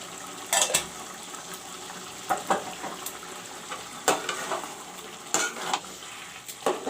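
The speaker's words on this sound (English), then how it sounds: "Curry will become hot. Put in the turmeric powder." Turmeric powder frying in hot oil for a chicken dahi curry, a steady sizzle broken by several loud scraping stirs of a spoon against the pan, close up and without talking.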